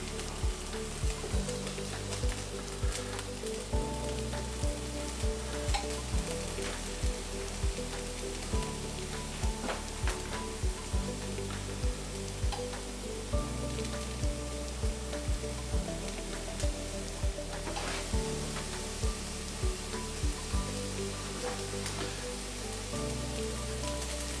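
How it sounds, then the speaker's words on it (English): Scrambled tofu sizzles steadily in a hot pan, a dense crackling hiss with small pops and occasional stirring scrapes, close and continuous throughout with no talk. "it's starting to make a little bit of noise now, so we can assume that it's going to start cooking"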